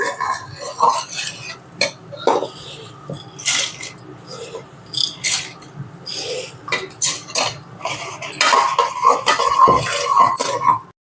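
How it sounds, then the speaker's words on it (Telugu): Boondi being stirred into thick, dark-stage sugar syrup for sweet-shop style boondi mithai, with repeated metal scraping and clinking of a spoon against a pot in an irregular, fairly loud rhythm. "బూందీ వేసుకొని కలుపుకుందాం"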